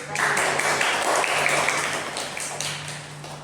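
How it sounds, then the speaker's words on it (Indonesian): An audience applauds a student presenter in a classroom, a brief burst of dense clapping that starts abruptly and gradually thins out, close and moderately loud with a steady electrical hum underneath. "Kita berikan aplaus dulu."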